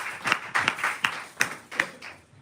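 A church congregation claps, giving about six or seven sharp, evenly spaced claps in a quick, steady rhythm, close and fairly loud, with no talking.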